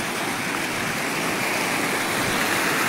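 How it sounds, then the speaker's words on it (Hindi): Steady, dense rush of a stream flowing along a mountain pilgrimage trail to a Mata Rani shrine, loud and close, continuous broadband water noise with no talk. "नाले में पहुंच गए, जो मैंने आपको नाला दिखाया था, ये काफ़ी दूर से बह रहा है।"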